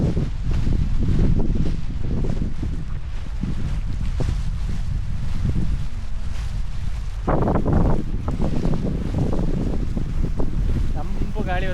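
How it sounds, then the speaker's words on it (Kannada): Cool wind gusting across a misty hilltop on the Patla Betta trek near Bisle Ghat, a loud continuous roar buffeting the microphone, with voices talking briefly near the end. "ತಂಪು ಗಾಳಿ ಬರ್ತಾ ಇದ್ದಲ್ಲ"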